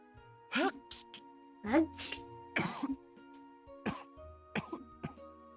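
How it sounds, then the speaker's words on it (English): Video game tourist coughing in a cluster of sharp bursts, several separate coughs and throat-clearing hacks spaced over a few seconds, close and loud against quiet. "another tourist who just so happened to cough at the same time"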